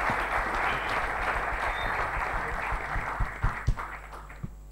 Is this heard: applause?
yes